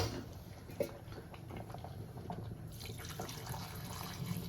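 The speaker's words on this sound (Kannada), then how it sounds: "ಇವಾಗ ಸ್ವಲ್ಪ ನೀರು ಹಾಕಿ ಮುಚ್ಚು." Water trickles and splashes steadily into a pot of mutton leg soup on the stove, faint and continuous, with a few soft clinks of the vessel and no talking.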